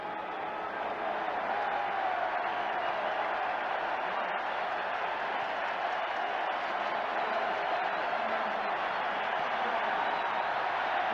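A crowd cheers in the stadium upper deck at Game 7 of the 1979 World Series, a steady, dense roar of many voices and applause that holds at an even level throughout, with no gaps.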